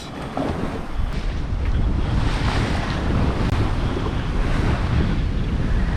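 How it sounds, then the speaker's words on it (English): Strong wind and rushing waves around a sailboat out in the Swedish archipelago in roughly 15 knots of breeze, a loud, steady roar of wind buffeting the microphone over the surf and hull wash, with no talking. "Finally I got more wind."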